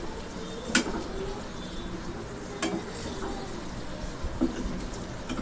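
Bitter gourd sautés in a pan with a steady, even sizzle, broken by a few soft clinks of a stirring spoon against the metal.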